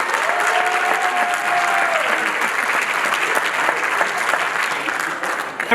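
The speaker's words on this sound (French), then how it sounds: "Un tonnerre d'applaudissements" Loud, sustained audience applause at a live stage show, thick clapping throughout with a brief tonal whistle near the start and a voice faintly underneath.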